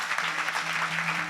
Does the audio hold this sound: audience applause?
yes